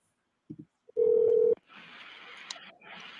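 A few short telephone keypad beeps are followed by a steady dial tone for about half a second, then a call connects with faint line noise as a phone call to the police is placed.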